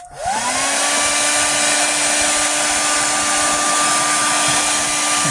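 A hair dryer blows hot air onto an action figure, a steady loud whirring roar with a constant motor whine that starts abruptly and runs unbroken throughout, with no talking.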